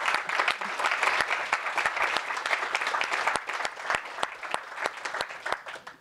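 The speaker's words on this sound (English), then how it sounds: "I hope you all join me with a round of applause." Moderate applause from an audience thanking a panel at a forex market talk, a small crowd clapping steadily with distinct sharp individual claps, tapering off toward the end.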